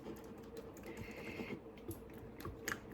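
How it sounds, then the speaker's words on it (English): A whisk beats six egg yolks in a bowl for a custard, giving a quick, light, continuous tapping and clicking that stays fairly faint and steady throughout, with no voices. "I'm whisking them up because we're going to temper these in a minute."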